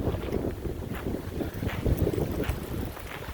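Strong wind buffets the microphone in a riverside park, a constant low rushing roar with irregular gusty swells and no speech.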